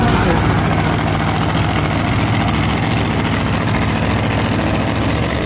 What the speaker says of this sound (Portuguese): Motor ligado do Chevette Godzilla aqui na pista da esquerda.